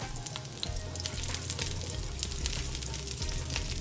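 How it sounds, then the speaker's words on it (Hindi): Garlic cloves and cumin seeds sizzling in hot oil in a kadai, a steady crackling fry with small popping bursts throughout and no speech. "अब इसमें 2 से 3 जवे लहसुन के ऐड कर दें। वन टेबल स्पून जीरा ऐड कर दें।"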